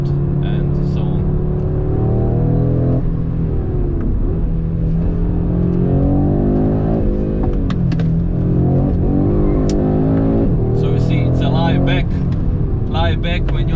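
A 2022 Audi RS3 with ceramic brakes driven hard, engine note rising and falling through acceleration and heavy braking, close inside the cabin, with someone talking over it throughout.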